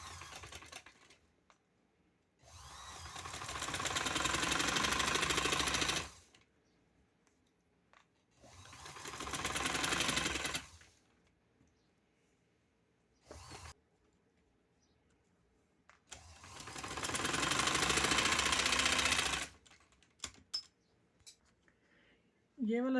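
A sewing machine stitches red silk piping onto the sleeve of a kurti in three long bursts of steady, fast whirring, separated by quiet pauses and a short blip.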